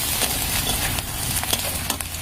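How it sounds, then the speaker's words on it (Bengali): Chopped onion frying in hot oil for a momo filling: a steady, fairly quiet sizzle with light scraping and stirring clicks scattered through it. "এবার তেলের মধ্যে পেঁয়াজ কুচিটা দিয়ে দিই"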